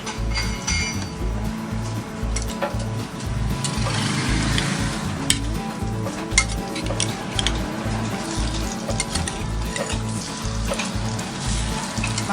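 Banana pieces fry in hot cooking oil with a steady, dense sizzle, while occasional utensil clinks ring out against the pan during a home cooking session for pork estofado.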